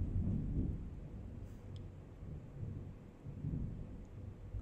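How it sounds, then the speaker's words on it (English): Rolling thunder rumbles low and continuous through the whole stretch, swelling and fading in long waves, with a faint hiss of rain underneath. "That is thunder. Rain is coming."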